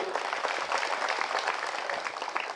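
Dense, continuous applause from a large audience at a political campaign rally in Karanjgavhan, steady and loud throughout the short stretch with no break.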